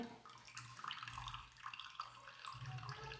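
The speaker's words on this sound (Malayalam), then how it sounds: "ഇനി കയ്പക്ക ഈ ഇളം ചുടുവെള്ളത്തിൽ നിന്നും കോരി മാറ്റാണ്" Bitter gourd pieces scooped out of lukewarm water in a kitchen pot, soft close splashing and trickling water, quiet and without speech.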